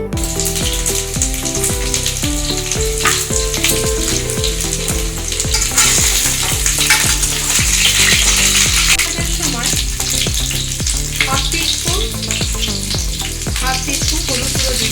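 Potatoes frying in hot mustard oil for a Bengali mutton curry make a loud, dense, continuous crackling sizzle, close up, with a low tonal background running beneath it throughout.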